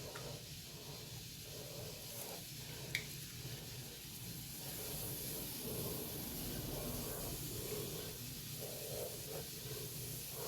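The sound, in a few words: baking soda fizzing as apple cider vinegar is added to hair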